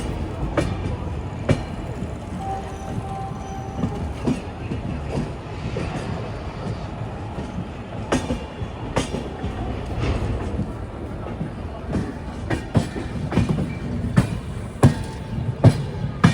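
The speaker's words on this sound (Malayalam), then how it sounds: "നമ്മളെ നേരത്തെ ഓവർടേക്ക് ചെയ്ത് വന്ന ഒരു വന്ദേ ഭാരത് ഇല്ലേ, അതാണിതാ ഇവിടെ" Vande Bharat express train standing at Nagpur railway station, with a steady rumbling rail hum, sharp clicks and clanks, and faint talk in the background.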